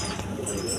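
Pigeons coo softly in a short continuous murmur, with faint high chirps and a brief wing flutter mixed in, close by and without speech.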